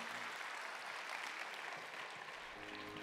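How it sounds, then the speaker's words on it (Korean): Audience applause at a church missions gathering, a brief, steady burst of many hands clapping, heard somewhat distantly, with a faint tone entering near the end. "다시 한번 크게 박수해 주시기 바랍니다."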